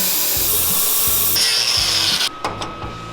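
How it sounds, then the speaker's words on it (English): A power drill bores a hole in a Corvair seat part, a loud steady grinding whir that cuts off abruptly after about two seconds, followed by brief tapping. "So we need to drill a hole in that so that that can thread into it and tighten up."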